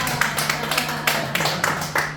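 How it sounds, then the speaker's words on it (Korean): Clapping from a church congregation in a rhythmic, fairly close series of claps, moderately loud and steady throughout. "자, 박수해 주세요."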